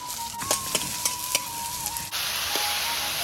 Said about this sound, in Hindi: यहाँ पर थोड़ा सा जीरा डालना पड़ेगा, उसके बाद प्याज।